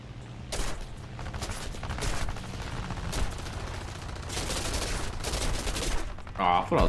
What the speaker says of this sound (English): hit him with the rear gun